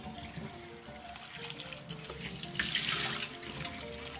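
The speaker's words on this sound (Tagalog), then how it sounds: "Hugasan natin para mawala yung starch niya." Sliced potatoes are rinsed under a running kitchen tap, a continuous splashing stream into a sink that grows brighter and louder toward the end as the water hits the slices.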